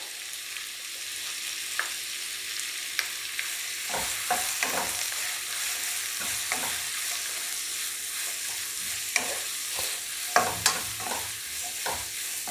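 Sliced onion, ginger, curry leaves and green chilies sautéing in a pan for an egg curry: a steady soft sizzle with intermittent scraping stirs, close and continuous, with no talking.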